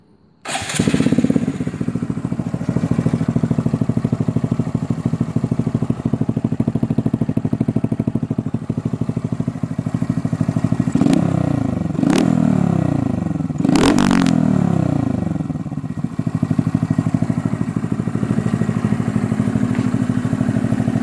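A Honda Grom motorcycle with a TDR exhaust cranks and fires up, settles into a loud, close, burbling idle, then revs sharply three times in quick bursts before dropping back to idle; no talking.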